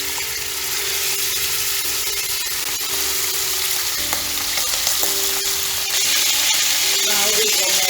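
Garam masala, curry leaves, green cardamom and cumin seeds sauté in a hot pan for mutton biryani, giving a loud, continuous, close sizzle with occasional stirring scrapes.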